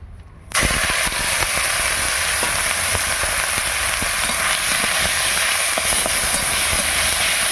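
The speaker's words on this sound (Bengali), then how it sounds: "তেলটা খুব ভালোভাবেই গরম হয়ে গেছে এবার কুচো চিংড়িগুলো প্রথমে ভেজে নেবো" Small shrimp drop into hot oil and begin frying: after a quiet half second, a loud, steady hissing sizzle starts abruptly and holds evenly to the end.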